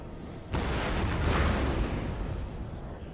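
Cannon of the Grand Battery fire in a video-game recreation of the Battle of the Pyramids, a sudden heavy boom that swells into a rumbling volley and slowly fades.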